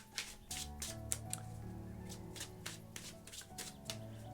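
Tarot cards shuffled by hand, a quick series of papery riffles and soft slaps in irregular bursts, with a low musical drone beneath.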